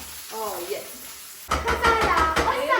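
Mustard seeds crackle and sizzle in hot oil in a pan while sambar is being made. The frying grows louder and busier partway through, and people talk over it.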